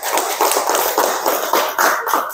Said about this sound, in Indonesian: Jadi tepuk tangan buat kelompok 1.